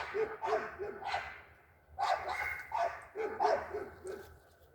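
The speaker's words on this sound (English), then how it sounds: "We sure have a lot of barking dogs out today." Several dogs barking outdoors on an autumn day, repeated bursts of barks in clusters with short gaps, moderately distant and fairly faint.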